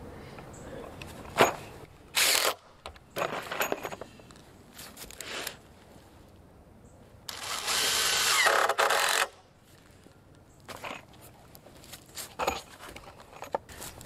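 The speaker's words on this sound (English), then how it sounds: "Right now I'm just going to partially drive my lag bolts" A power tool partially drives LedgerLok lag screws during a DIY porch build, giving several short whirring bursts and one longer sustained run of about two seconds, close and fairly loud, separated by quiet handling noise.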